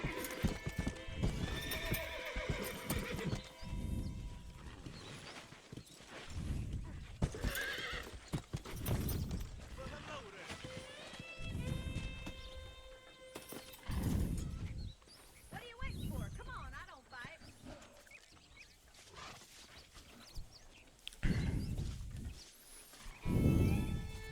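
Horse hooves clip-clop in bursts while a horse neighs in the video game Red Dead Redemption on PC, with people talking intermittently over the scene and background ambience.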